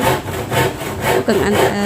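An amateur handyman hand-saws wood during household cleanup: steady back-and-forth saw strokes, close and loud, in an even rhythm of about six or seven passes.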